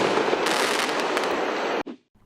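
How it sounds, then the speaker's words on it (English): A Ronin 32-shot aerial finale firework set goes off in a dense, continuous roar of rapid crackling bursts, loud and sustained, then cuts off abruptly. "we have Ronin. Now, this is complete with 32 shot standard aerial finale set"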